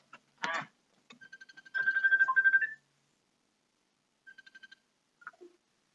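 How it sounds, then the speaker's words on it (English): A mobile phone goes off in a quiet classroom, sounding a short pattern of electronic beeps and a sustained tone, then a brief repeat of beeps before it stops. "Just pretend someone's phone went off in class."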